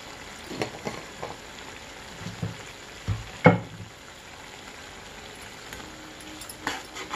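Mint pulao spiced with garam masala powder is stirred in a pan, giving soft scraping and clinking strokes at irregular intervals over a faint sizzle, with one sharper knock midway.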